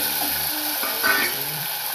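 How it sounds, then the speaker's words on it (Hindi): Green chillies and chopped tomatoes frying in a pan for Gujarati dal dhokli, a steady close sizzle and hiss with soft stirring scrapes throughout. "अच्छे से सभी को फ्राई करेंगे।"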